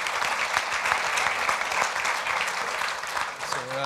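Sustained applause from an audience at a telecom industry summit panel, steady dense clapping throughout, with a faint voice starting at the very end.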